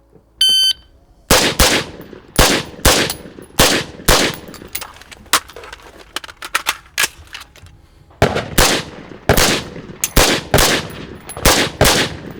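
Sharp, loud gunshots from a night vision shooting drill on a range, fired in quick irregular bursts and single cracks with short pauses between strings, close to the listener and with almost no talk.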